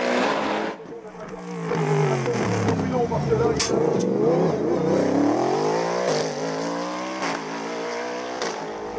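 A Norma 4-litre CN+ race car at a hill climb race in Marchampt, Beaujolais, gives a loud engine roar that climbs and falls through the gears, with a commentator speaking over it throughout.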